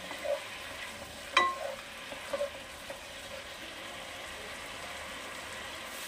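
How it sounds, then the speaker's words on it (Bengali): Bengali masala paste for bhat pora capsicum, with a little chopped coriander, stir-fried in a pan, giving a soft steady sizzle with a few sharp spatula scrapes and clinks near the start. "এবার মশলাটা পুরোটা আমি কষাবো।"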